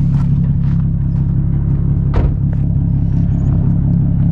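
A car fitted with a Tomei exhaust rumbles at a deep, steady idle, broken by a single dull thud partway through, with no talking.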